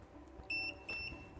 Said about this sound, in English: You know you've clicked the green button properly if the beeping stops.